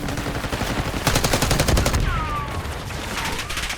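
Rapid gunfire in the Black Ops 6 video game, bursts of automatic shots crackling close and loud, with a brief whizzing sound between volleys.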